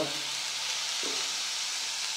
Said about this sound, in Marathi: त्यानंतर तो आपण कढईमध्ये त्याला थोडं परतून घ्यायचं आहे.